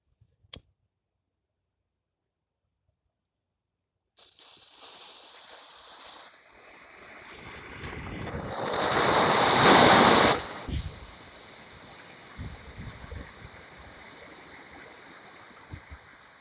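A wax smoke bomb confined at the sides and partly at the bottom burns after a brief tick and silence, rising into a loud, intense hiss that peaks as it spouts material over, then settles into a steady rushing with scattered crackles.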